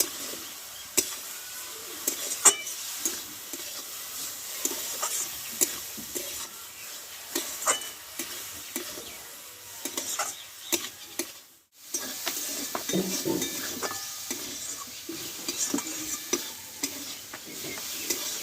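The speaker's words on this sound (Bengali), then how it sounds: "আর অল্প একটু চিনি দিয়ে দেব আর দেবো কাঁচা লঙ্কা চেরা একটু নাড়াচাড়া করে নেবো" Radish greens with sugar and slit green chili stirred in a pan, soft frying sizzle under repeated spatula scrapes and taps, with a short quiet pause partway through.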